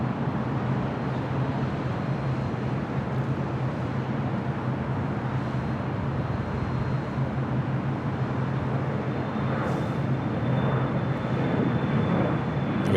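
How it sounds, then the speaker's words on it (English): A Sun Country Airlines Boeing 737-800 comes in to land on runway 6 left at LAX with a continuous, loud jet roar, broadband and steady, with a faint high whine appearing toward the end. "Sun Country Airlines Flight 8711 heading to Portland. It's more than likely a sports charter, 737-800."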